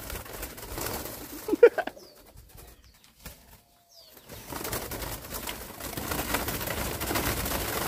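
Spotted doves coo and flap their wings at close range. Soft calls come with a burst of louder flutters, then a brief near-silence before steady rustling and movement resume.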